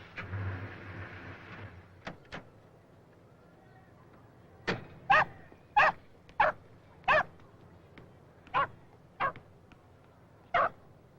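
A dog barks in a quiet house, first a couple of faint distant yips, then a run of about eight sharp, evenly spaced barks that sound fairly close, with no talking over them.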